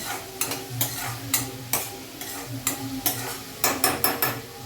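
Spatula stirring onion and fenugreek greens (methi) in a pan, a steady series of scraping strokes about every half second over a soft frying sizzle, close and alone.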